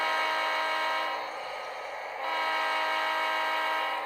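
Model railway freight train under DCC-EX command station control, its steady broadband running noise holding throughout, with a brief dip in loudness midway before returning to full level; no talking.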